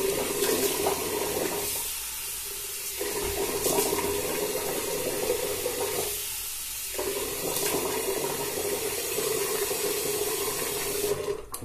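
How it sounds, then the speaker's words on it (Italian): Tap water running steadily into a sink while a man wets his face before shaving, with brief interruptions in the flow as hands move under the stream; close and continuous. "Adesso mi bagno il viso"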